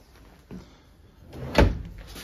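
A drawer in an RV kitchen, a 2022 Forest River Cherokee Arctic Wolf 3550SUITE, slides and shuts with a soft scrape followed by a single short, solid thump near the end.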